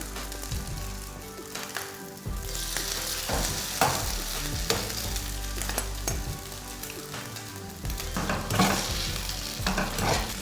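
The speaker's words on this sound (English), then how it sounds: "I want to fry my marinated shredded beef." Marinated shredded beef fries in hot vegetable oil with a continuous rain-like sizzle, rising and falling as it is stirred, with occasional soft scraping of a utensil against the pan.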